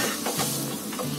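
Browned onion sizzling in a hot pan for village-style chicken curry, a close, loud crackling fry with brief stirring scrapes.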